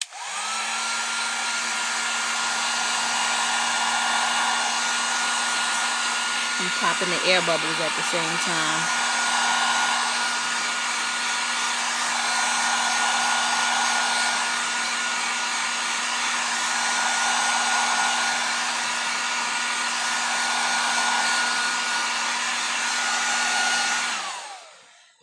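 A heat tool blows a steady, loud rush of hot air over poured paint in a dirty pour vase project, running continuously for over twenty seconds with a brief spoken remark partway through.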